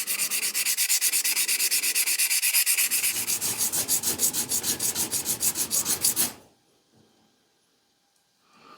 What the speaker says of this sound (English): We've got some 400 grit sandpaper. We're just going to kind of give it a clean scratch pattern